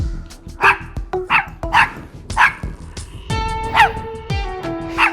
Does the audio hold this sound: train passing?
no